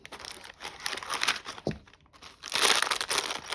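Plastic packaging crinkles and crackles up close in bursts, with brief pauses between handling sounds.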